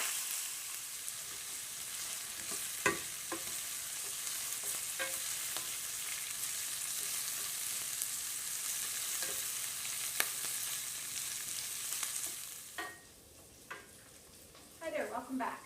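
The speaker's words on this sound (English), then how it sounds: "So our onions are nicely browning in the pan." Onions browning in a pan with cloves and cinnamon give a steady close sizzle with occasional stirring knocks; the frying fades near the end as a voice speaks.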